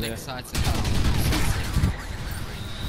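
Heavy, continuous gunfire from a Crysis 3 PC session, a weapon with strong recoil firing in a dense rapid burst that starts after a brief pause and fills the clip with loud, clustered shots.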